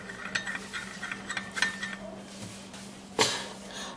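A spoon stirring an onion juice mixture in a small container: soft scraping with light clinks, a few faint taps, then one sharper knock near the end, close and quiet with no talking.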